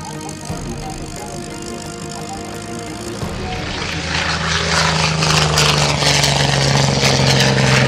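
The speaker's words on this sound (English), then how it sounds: "With this outside turn, generating hefty amounts of negative G, and this inverted wing waggle, Capitaine Ruet runs off his display" A propeller aircraft flies an aerobatic display at the La Ferté Alais airshow, with outside turns and an inverted wing waggle; its steady engine drone grows louder and brighter as it nears, heard outdoors with no talk.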